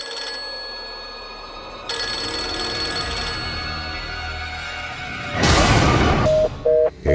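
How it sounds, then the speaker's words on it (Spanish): An old-style telephone bell rings insistently, a bright metallic trill that grows louder and harsher toward the end with a few short electronic beeps. "Recibirá llamadas inesperadas."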